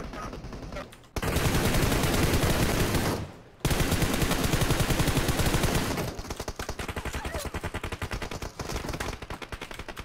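Dense automatic gunfire from PUBG Mobile on the Livik map, loud and sustained in long bursts with a short gap, then rapid rattling single-weapon fire continuing to the end.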